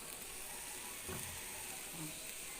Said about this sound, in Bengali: আমি নেড়ে চেড়ে মশলার সাথে সবজিটা অ্যাড করে দিচ্ছি যেন সবগুলি সবজি মশলার সাথে মিশে যায়